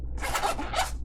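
A zipper on a nylon pouch is pulled in two quick close rasping strokes, crisp and clear with no talk.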